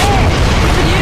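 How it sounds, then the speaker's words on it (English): Mortar explosion in Gears of War 3, a single loud, close boom that fills the moment with heavy low rumble and blast noise. "Already getting Mortars"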